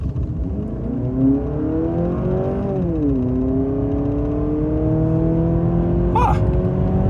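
A 2024 Honda CR-V engine revs up steadily from inside the cabin, pitch climbing, dipping at a gear change, then rising again under continuous acceleration.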